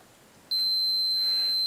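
A K40 laser cutter's safety switch circuit gives off one steady, piercing electronic beep that starts suddenly and holds unbroken for over a second, fairly loud and alone.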